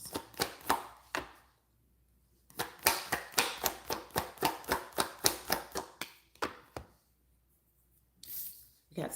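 Tarot cards shuffled by hand in bursts of rapid riffling flicks, a short flurry, a longer run of crisp snaps, then brief flurries after pauses, close and fairly quiet.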